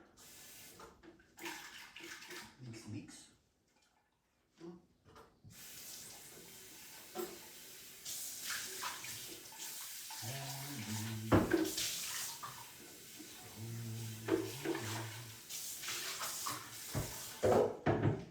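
Water pours from a tap in a kitchen while a drink is being mixed, a steady rushing stream running for several seconds at close range, with speech and handling noises before and after.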